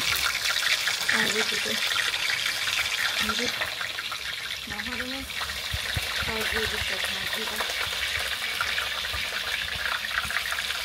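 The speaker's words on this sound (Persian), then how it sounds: "آقای معصوم اومده ناگت‌ها داره سرخ میکنه" Chicken nuggets fry in a pan at a home birthday cookout, a steady hissing sizzle under intermittent conversation.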